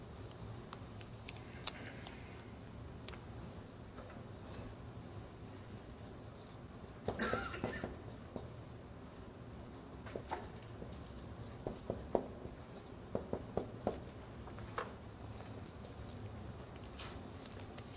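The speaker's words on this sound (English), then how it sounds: "Let me write down here something else" Marker or chalk tapping and scratching on a teaching board during an Arabic grammar lesson, a series of light, irregular ticks and short strokes with a louder scraping burst near the middle, over a quiet room background.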